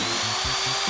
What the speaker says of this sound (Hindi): ओह, नहीं, मैंने गलत जगह ड्रिल कर दी।